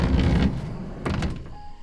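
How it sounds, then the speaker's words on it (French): The sliding side door of a converted camper van is worked with two heavy, close thunks about a second apart, with a short rumble of the door rolling in its track. "On a une porte coulissante qui donne une assez grande ouverture si on est à l'intérieur"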